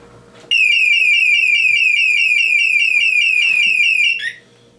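A Scorpio I600i motorcycle alarm, triggered by its tilt sensor, blares a loud, steady warbling electronic siren for about four seconds, then cuts off abruptly.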